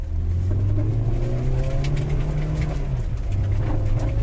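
Old car engine revving steadily in sport mode, a loud, sustained droning roar that holds pitch and then dips slightly near the end, close by with no talking.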